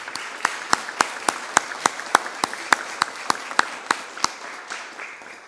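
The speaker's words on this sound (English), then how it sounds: "Let's give them a round of applause." A small luncheon crowd applauds crime victims' families with sparse, distinct claps in an even rhythm, fairly close and loud, continuing for several seconds before trailing off.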